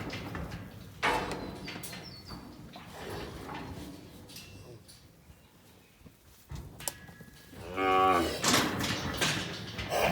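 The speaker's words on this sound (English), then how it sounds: "that little weaner heifer is upset" An upset weaner heifer lets out a loud, drawn-out moo near the end while mountain-block cows are mustered through a panel, after quieter shuffling, knocks and a few bird calls.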